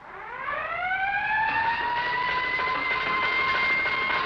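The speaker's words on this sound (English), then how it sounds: "Sound the alarm." An alarm siren wails alone, rising in pitch at the start and then holding a loud, steady tone with strong harmonics for several seconds, close and continuous.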